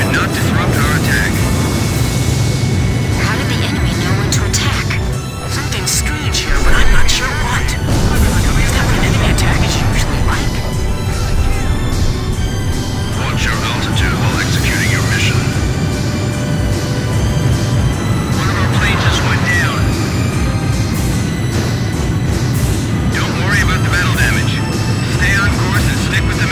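Fighter jet aircraft roar steadily through an aerial mission in Ace Combat 5, a loud continuous engine rumble with swelling passes, under radio chatter and music.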